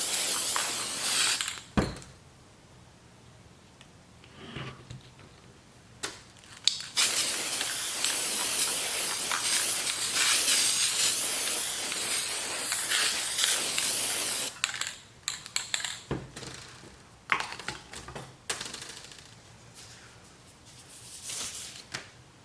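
Aerosol cans of gold spray paint and gloss hissing onto pine cones in bursts, with one long sustained spray in the middle and shorter sharp blasts before and after, close and loud, separated by quiet gaps and small handling clicks.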